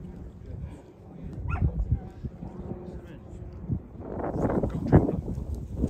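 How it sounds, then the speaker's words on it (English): Hunting dogs out on a hunt give excited yips, whimpers and short barks, some near and some further off. The sounds grow busier toward the end while people talk quietly over them. "When one barks, it'll all go to that one angle."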